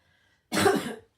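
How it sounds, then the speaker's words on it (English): A single sharp cough from a person with a winter flu, close and loud, one burst lasting about half a second after near silence. "Well, that cough was persistent."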